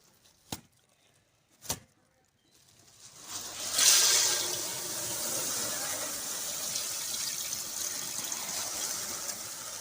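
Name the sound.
water poured into pot for zarda syrup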